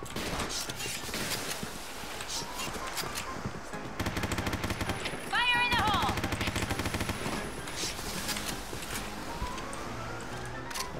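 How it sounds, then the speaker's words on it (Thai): Rapid bursts of gunfire in the video game Point Blank, with dense automatic shots, mixed with explosions and game sound effects, steady and loud throughout. "เสียงปืนเหมือนไม่แรง"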